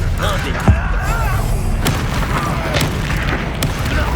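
A Bombarda blasting spell from Hogwarts Legacy goes off as a loud, booming explosion within a dense, continuous game soundscape of rumbling effects and voices.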